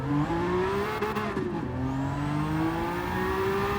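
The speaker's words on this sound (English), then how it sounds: "A little bit of excessive rev." Nismo 400R GT-R engine in Gran Turismo 7, a loud continuous race-car engine note that rises, dips sharply on a gear change, then climbs steadily again, with a faint tyre squeal.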